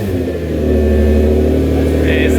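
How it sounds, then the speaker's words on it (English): A Nissan GT-R R35 engine revs close by in a wrecked car getting a Liberty Walk widebody kit, a deep loud rumble climbing steadily in pitch over a couple of seconds. "Rev it up a little bit, not too much."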